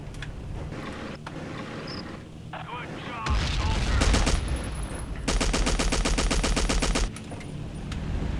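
A destroyer firing its guns in Battlefield 1942 on the Midway map, loud rapid repeated cannon and gun bursts in sustained volleys, with heavy low booms and a player talking over it.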